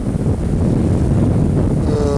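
Wind on a sailboat under way at sea near 7 knots, a loud continuous rushing gust with hull and water wash underneath, rising slightly in strength.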